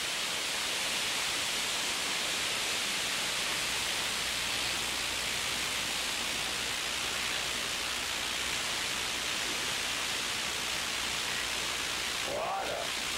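Rushing water at a waterfall in an amusement park setting makes a steady, loud broadband roar that runs unbroken throughout, with a brief faint voice near the end.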